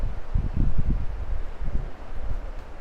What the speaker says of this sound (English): it's been very windy, so Still very windy.